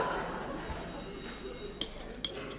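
A telephone bell rings with a steady tonal trill over a noisy background in a 1964 stage comedy, fairly faint, with a couple of soft knocks.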